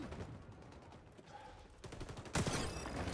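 Rapid automatic gunfire crackles in an online shooter match of XDefiant, bursts building and growing louder toward the end with no speech over them.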